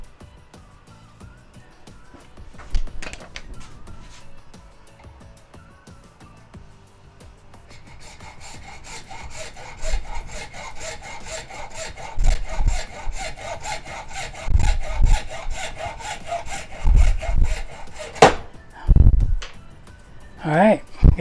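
A hand saw cuts off a piece of wood with rhythmic rasping strokes that start after a few seconds and grow steadily louder and closer, and a voice is heard near the start.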